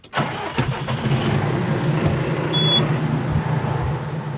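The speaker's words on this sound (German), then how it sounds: "Der Traktor und ein Anhänger mit 4 großen Wassertanks ist parat." A tractor engine starts up with a sharp cranking catch, then settles into a steady close mid-pitched idle rumble; the tractor is hitched to a trailer carrying four large water tanks.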